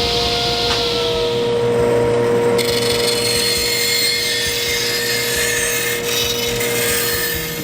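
A power tool cuts a groove into wood for a French cleat shelf, a loud continuous close-up grinding rasp that holds steady throughout.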